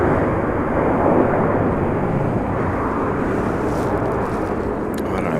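JetBlue Airbus A321 touching down with a slight bounce at Raleigh-Durham, a loud, close engine and rollout roar that stays strong and steady throughout.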